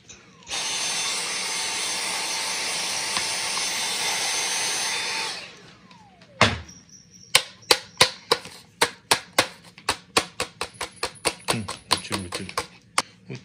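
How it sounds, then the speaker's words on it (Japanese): Repeated tapping on a Bodum 10903 metal coffee grinder to knock loose stuck grounds, a quick run of sharp close knocks in an uneven rhythm, following a long steady whirring motor drone. "向きを変えてトントンするといいですね。 360度トントン。"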